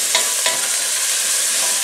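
Carrots, onions, leeks, celery, garlic, tomatoes and tomato puree fry over high heat in a pan. A spoon scrapes through them twice in quick succession over a steady, loud sizzle.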